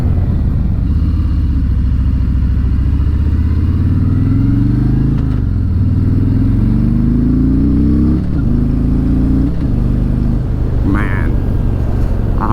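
A 2019 Harley-Davidson Road King Special with the 114 engine being ridden, its loud, low engine drone rising and falling through repeated revs and gear changes, heavy wind rumble all the way through.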